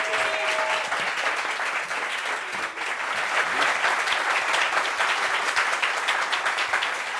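Sustained applause from a talk-show studio audience fills the space with a thick, even wash of clapping that swells slightly midway and holds at a steady level to the end.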